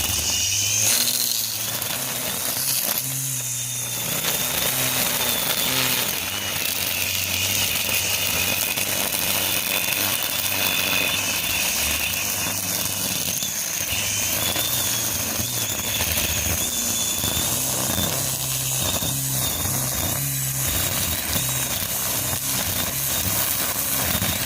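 Dewalt DCST922 20v XR brushless 14-inch battery string trimmer on high, cutting dandelions: a continuous close high-pitched whine with fluctuating buzzing and whipping line noise as it works through the weeds.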